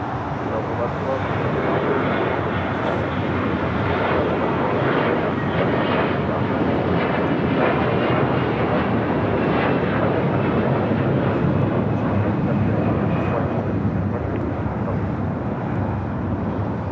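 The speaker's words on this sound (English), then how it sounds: "Our next departure here on the south side is Delta Airlines flight 715 heading to Atlanta, Georgia on an A321" A Delta Airlines Airbus A321 jet departs LAX bound for Atlanta, a steady loud broadband engine roar holding for the whole stretch, with a voice talking over it.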